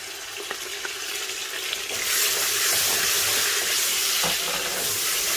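Soya chunks with ginger garlic paste fry in a pan, light scraping stirs giving way to a louder, denser sizzle as the paste goes in, close and steady with no voices.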